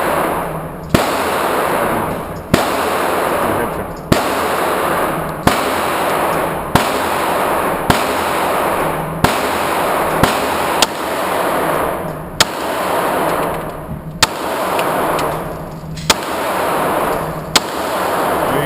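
Handgun shots fired repeatedly, about a dozen sharp, loud cracks spaced roughly one to one and a half seconds apart, each with a short ringing tail over a steady background hiss, close and with no talk.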